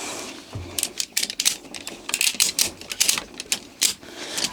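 Rapid, irregular clicking and ratcheting bursts, close and fairly quiet, as an AceBikes motorcycle holder is tightened inside a van.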